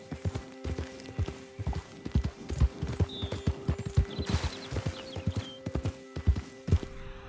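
A horse gallops in Red Dead Redemption, its hoofbeats rapid and rhythmic clip-clopping throughout, with a steady tonal game music drone underneath and a brief whinny-like squeal midway.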